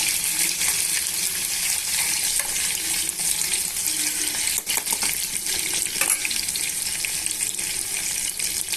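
Chicken pieces with green chilli frying in hot oil in a pressure cooker pot, a loud, steady sizzle with occasional stirring scrapes running throughout.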